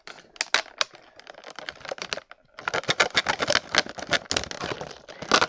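Sharp snipping and crinkling as a cutter works through a Mattel She-Ra Origins toy's plastic packaging cage, a dense run of close, irregular clicks and crackles with a brief pause before resuming.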